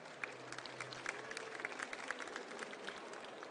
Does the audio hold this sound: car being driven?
no